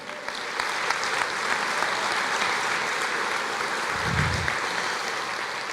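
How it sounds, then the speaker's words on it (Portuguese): A church congregation breaks into sustained applause during a Portuguese-language service, a steady, full-room clatter of many hands with a brief low thump partway through. "Você pode aplaudir o Senhor?"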